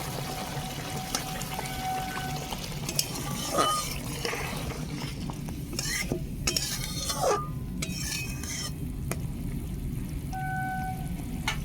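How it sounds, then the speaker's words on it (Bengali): Water poured into a pan of fish curry made with mustard-poppy seed paste, a few clinks of utensils and short splashy bursts against a steady background hiss, with no talking. "জল দিচ্ছি"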